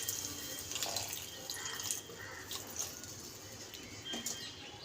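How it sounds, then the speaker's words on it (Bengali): Water is poured into a pan of posto paste for a fish paturi dish, a soft, uneven splashing and trickling with little spurts and clinks, fairly faint and close by. "একটু জল দেবো আমি।"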